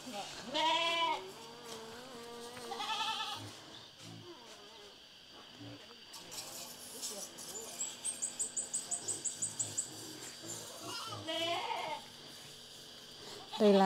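Goats being fed chopped chinaberry leaves on a rural Vietnamese farm bleat between people talking, with a rapid run of short repeated calls in the middle.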